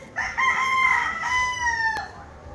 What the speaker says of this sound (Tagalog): Oh, yung chicken.